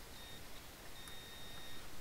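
A multimeter in continuity mode, probed across the circuitry of a PPI Power Class 1800.2 car amplifier under repair, gives a thin, high, steady beep that holds faintly for the whole stretch over a low hiss of background noise.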